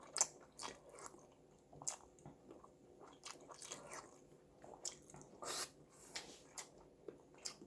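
Someone eating samseon jjamppong, a seafood noodle soup, at a restaurant in Anseong makes quiet, close bites, crunches and wet clicks in an irregular rhythm, with no talking.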